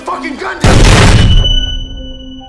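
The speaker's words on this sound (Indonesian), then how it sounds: "Mia meluncurkan tembakan yang mengenai lengan David hingga pria itu terpental menabrak jendela" A single sharp, loud blast bursts out suddenly over a quiet tonal background, then decays into a lingering ringing tone.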